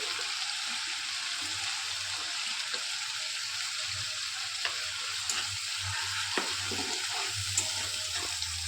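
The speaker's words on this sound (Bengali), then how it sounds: "ভালো করে ভেজে নেবো" Ginger, garlic and chili paste fry with tomatoes in a pan, giving a steady low sizzle punctuated by light scraping stirs, close and alone, with a faint background hum.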